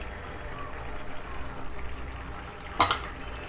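Boiled mashed potato and half a lemon's juice are stirred into pav bhaji in a pan, a soft steady scraping and sizzle with one sharp clink of the spoon near the end, close and moderate.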